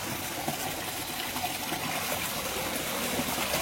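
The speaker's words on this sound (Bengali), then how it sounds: "এবার নেক্সট হচ্ছে আমার মাগুরটার আমি জল ছাড়ছি।" Dirty water draining out of the outlet of a magur (catfish) tank, a steady, close rushing gush that holds without a break throughout.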